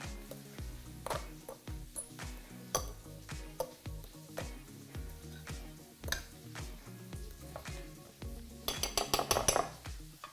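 Venison kofta mixture being mixed with oil, salt and pepper in a bowl, with repeated clinks and scrapes of utensil against dish, a brief faster rattle of clatter near the end.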